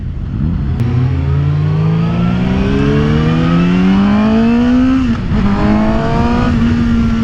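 A 2018 Suzuki GSX-S750 motorcycle engine revs up through rising pitch, briefly dips at a gear change, then pulls again, loud and close with wind noise.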